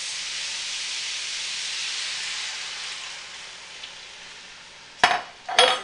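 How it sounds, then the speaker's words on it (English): Sauce poured into a hot pan of pork belly and rice noodle stir fry, a loud steady hiss and sizzle that slowly fades, followed by two sharp clattering bursts of stirring near the end. "And now I'm going to add my sauce."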